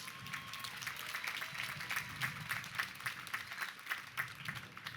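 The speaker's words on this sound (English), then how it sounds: "Give yourselves a big round of applause." Graduates at a 2022 Lehman College commencement ceremony clapping together, a steady crowd applause heard from some distance, dense and moderate, without speech over it.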